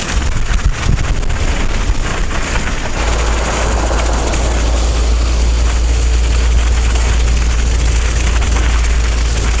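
Loud winter wind buffets the microphone in a constant rushing roar at a river port, with deep low rumbling gusts that grow heavier partway through.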